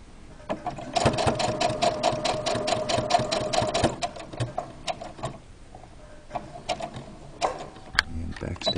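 A sewing machine back-stitches over the seam ridge of a fabric mask, running in a steady rapid chatter for about three seconds, then stopping and restarting in short bursts.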